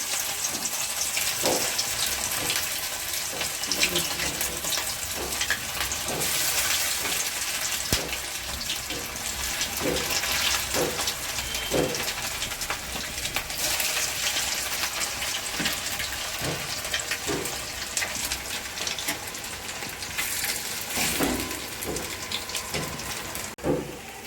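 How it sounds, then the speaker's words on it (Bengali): Thin fritters of small shrimp crackle and hiss in hot oil, a steady broadband sizzle with scattered sharp pops running close throughout. "তেলটা গরম হয়ে গেছে, এবার আমি ভেজে নেবো পাতলা পাতলা করে দিয়ে।"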